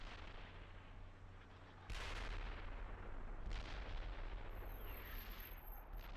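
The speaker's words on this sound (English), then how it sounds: "We're getting artillery." Artillery fire in the tank simulation game Steel Beasts Pro PE, a sudden heavy boom followed by another distant rumbling blast over a steady low engine drone, fairly quiet overall.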